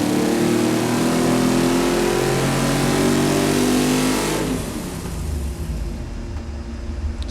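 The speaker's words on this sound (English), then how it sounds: "God, I love the sound of these big blocks." Big-block V8, a Chevy 454 or Ford 460, roars loud and close on a dyno, holding a high rev before dropping off and settling toward idle.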